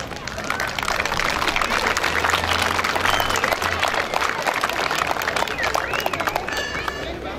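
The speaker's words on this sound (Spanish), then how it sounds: "Un aplauso, por favor" Crowd applause at a homage event in Chigmecatitlán, Puebla, dense steady clapping filling the whole stretch with cheering and crowd babble mixed in, loud and sustained.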